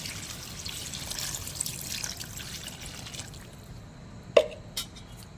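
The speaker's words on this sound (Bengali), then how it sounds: "এবারে জল ঢেলে দেবো।" Water is poured into a pan of chicken kosha curry, giving a steady soft wash of liquid noise that fades out, followed by two sharp clinks near the end.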